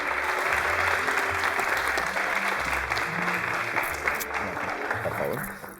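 Loud, dense applause from a university theatre audience, sustained clapping throughout with a low murmur of voices and talk beneath it, tapering slightly at the end.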